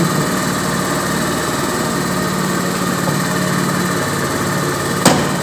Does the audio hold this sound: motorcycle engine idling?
yes